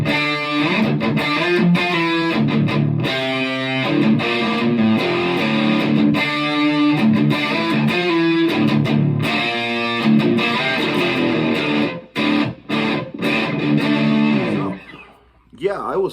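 An Epiphone Les Paul Custom KOA electric guitar with overdrive distortion plays a driving riff of sustained, gritty chords, cutting out briefly near the end before resuming.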